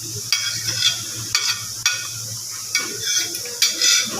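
A spoon stirs chhena payesh with cashews and raisins in a pot, scraping and clinking against the metal in irregular strokes over a low simmering sizzle, close by with no talking.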